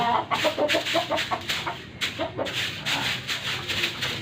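Texas gamefowl chickens cluck close by in repeated rhythmic bursts, with scratchy rustling mixed in and no speech.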